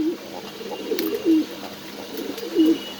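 Pigeons coo at a pigeon farm in Mirpur, soft throaty calls repeating from close by over a low background hum, with no talking.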